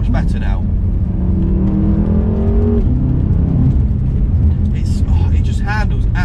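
A BMW M5 on a race track holds a steady engine drone with a rising then falling rev tone, heard from inside the car under continuous spoken commentary.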